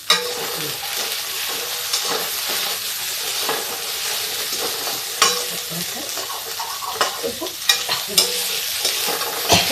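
A singhade fasting dish is stirred and roasted in a pan, giving a dense, steady sizzle with frequent scraping clicks of a spoon against the metal, close and fairly loud, no voices.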